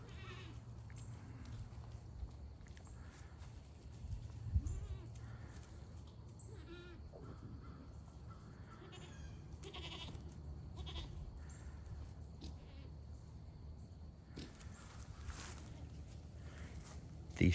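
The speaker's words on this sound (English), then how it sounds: "She wants back with the goats." A mother goat named Sissy, with her kids, bleats a few times while being moved away from the other goats to an alpaca paddock, with steady farmyard background noise throughout.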